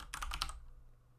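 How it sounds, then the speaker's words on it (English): A short burst of rapid keystrokes on a computer keyboard, typing a brief phrase in about half a second, then quiet with a low background hum. "I'm going to type in hello world."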